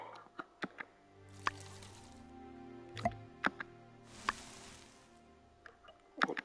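Watering plants in My Time at Sandrock: a run of wet drips and plops with bursts of splashing water, spaced irregularly over a quiet background, no talk.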